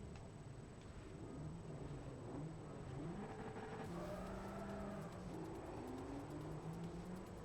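An Audi race car drives in Forza Motorsport 4, its engine droning steadily with gear shifts and rising revs, at a constant moderate level and without talk.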